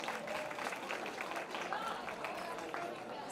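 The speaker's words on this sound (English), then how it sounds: "Let's give Sahita another round of applause." A round of applause from guests at a sweet 16 birthday party, quiet and fairly distant clapping mixed with crowd chatter.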